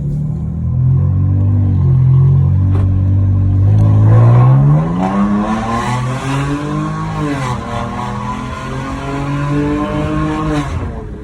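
A car engine with an aftermarket Mopar air intake revs hard, its pitch climbing and dipping through gear changes as it accelerates loudly and close by, with no talking.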